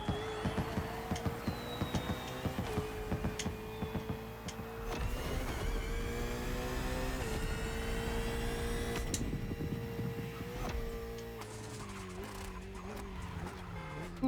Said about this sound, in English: I like that little crackle too, as the car decelerates